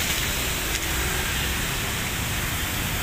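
Heavy rain pours down at the Purabaya Bungurasih bus terminal in Surabaya, a dense, steady hiss that fills the whole clip at an even level with no voices.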